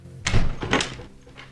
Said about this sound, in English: So Robert leaves and slams the door.